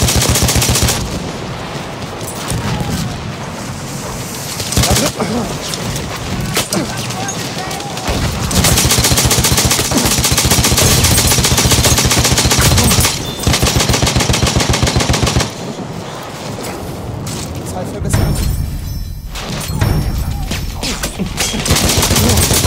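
Perino Model 1908 light machine gun firing in the video game Battlefield 1, long rapid bursts of loud automatic fire with brief gaps, mixed with other battlefield gunfire and shouted voices.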